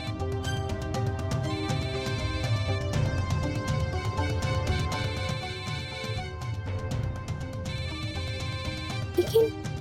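A mobile phone ringtone plays continuously as a steady melodic pattern of repeating tones over a low background bed, with a brief louder burst near the end, heard in a Hindi television drama scene.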